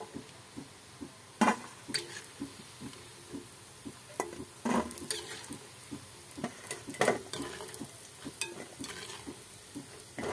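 Shankarpali dough pieces frying in hot oil, a soft steady sizzle with small regular ticking pops and a few louder scrapes and knocks of a slotted spoon, fairly quiet and close, no voices.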